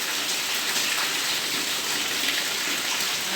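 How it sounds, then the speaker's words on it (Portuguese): Heavy rain pours down steadily in Maceió, a dense, constant hiss of water hitting the surfaces outside a house, with no voices. "É chuva mesmo, com gosto, veio."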